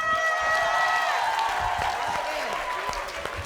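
A studio audience claps and cheers steadily throughout a comedy show featuring vampire costumes, a dense sustained wash of applause with faint voices mixed in.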